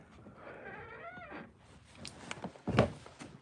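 A pet cat named Bandit meows outdoors on a sunny day, a drawn-out nasal call followed by a few shorter bursts, close to the microphone amid light rustling and handling noise.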